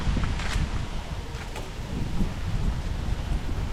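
Strong outdoor wind buffets the microphone in steady broadband gusts near trees, with leaves rustling and a low continuous roar throughout.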